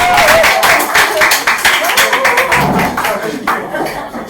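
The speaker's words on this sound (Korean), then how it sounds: "큰 박수를 모시겠습니다" An audience at a community education lecture claps, a loud rapid patter of many hands that thins out toward the end, mixed with voices speaking over it.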